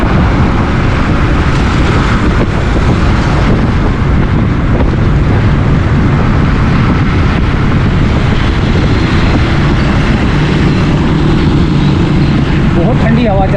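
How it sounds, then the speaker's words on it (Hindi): Strong cold wind roars steadily and loudly across an outdoor microphone near a colony bridge in Karachi ahead of a thunderstorm, a dense continuous rush with no breaks for the whole stretch. "बहुत ठंडी हवा चल रही है दोस्तों, बहुत यक हवा चल रही है"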